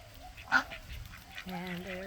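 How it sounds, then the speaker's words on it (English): Ducks at morning feeding time on a farm give a few faint quacks and honking calls, with one sharper cry and then a short run of nasal calls near the end, at a quiet distance. "So I have a number of different ducks down here."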